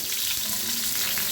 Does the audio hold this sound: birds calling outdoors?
no